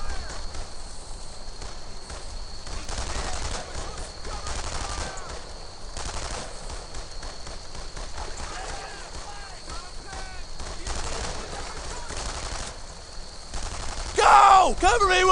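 Gunfire in the World War II shooter Brothers in Arms: Earned in Blood, a continuous distant rattle of rifle and machine-gun fire with scattered sharp cracks, under shouted soldier voices and a sharp whistling burst at the end.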